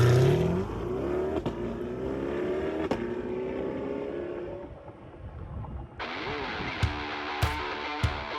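A 2021 Chevrolet Corvette Stingray Z51 in Sebring Orange revs and accelerates, its engine note rising loudly before fading into a lower drone, then a sharper tone and a few clicks near the end.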